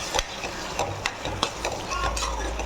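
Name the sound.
sautéing spices and masala in a pan for prawn biryani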